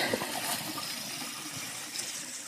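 Water running from a trailside spring on the Appalachian Trail, a steady close rushing gush with no gaps, no talk over it.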